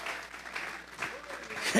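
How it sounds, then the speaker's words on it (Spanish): Church congregation clapping as an offering of praise to God, a fairly soft, steady wash of many hands with swells and a louder flurry at the end, mixed with faint background voices. "Vamos a regalarle ofrenda de palmas al Dios de la gloria."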